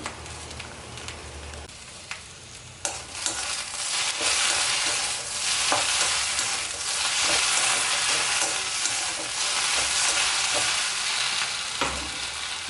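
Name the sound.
okra sautéing and being stirred in a pan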